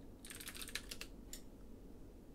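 Quick keystrokes on a computer keyboard, about a dozen close, faint clicks in a short burst at a rapid uneven rhythm, followed by quiet, with no speech.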